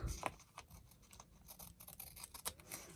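Scissors trimming paper for a journal tag, soft, close, faint snips and scratchy cuts in an uneven run.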